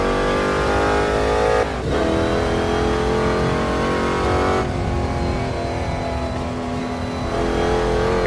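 A 600 HP 1963 Corvette Stingray roars loudly at full throttle on the Nordschleife during a tourist day, its engine note dipping briefly at two gear shifts before climbing again.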